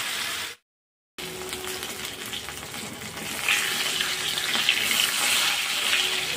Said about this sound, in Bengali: মাছগুলো আমি কড়াই দিয়ে ভালো করে ভেজে নেব, লাল লাল করে।